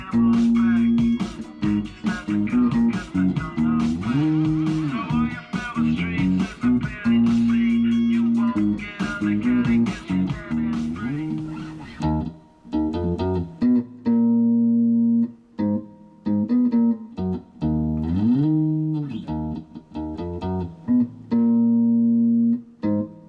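A bass guitar plays the line in standard tuning, a repeating riff of plucked notes with a sliding pitch bend each time, played alone and close.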